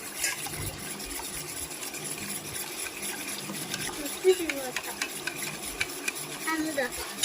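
Ginger dosa batter is stirred and mixed by hand in a bowl, giving a steady wet, sloshing scrape throughout at close range, with faint background noise and a brief louder knock midway.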